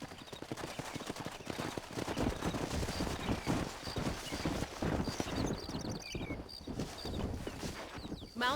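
In the Red Dead Redemption game, horse hooves clip-clop in a quick, even rhythm at moderate distance. Faint distant gunshots and other game ambience sit underneath, and no one speaks.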